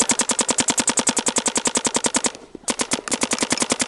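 A Planet Eclipse CS1 paintball marker fires rapid, evenly spaced shots in a fast string, breaking briefly before resuming the same quick cadence, loud and close.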